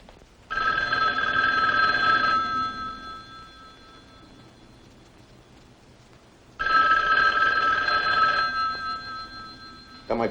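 Telephone bell ringing indoors in a house, two long bursts of repeated ringing separated by a pause of several seconds, loud and close, with a new ring just starting at the end.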